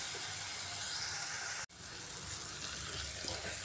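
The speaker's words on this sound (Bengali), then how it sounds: "এইভাবে মশলাটাকে আমি একটু সময় কষিয়ে নিচ্ছি।" Masala spices frying in oil over a medium gas flame, a soft steady sizzle and hiss, briefly cut off for an instant midway before resuming; no talking.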